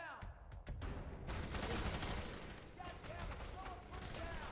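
Rapid bursts of gunfire in the video game Pet Simulator 99, a dense continuous crackle of overlapping shots throughout, with a player's voice talking over the game audio.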